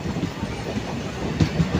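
A Konkan Railway Roha–Diva DEMU train running near Roha station produces a steady rumble with rhythmic wheel clatter over the rails, heard at close range with no voices.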